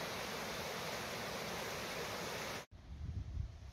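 Steady broadband rush of flowing river water, the Elizabeth River in North America, loud and continuous, then abruptly cut to a quieter scene with low rumbling.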